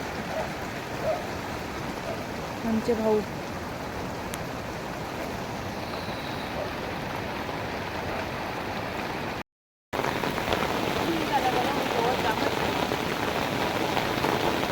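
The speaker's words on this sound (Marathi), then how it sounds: "चांगलाच पाऊस आलाय" Heavy rain falling on a farm, a dense steady downpour drumming close by, with a brief break and a few words spoken over it.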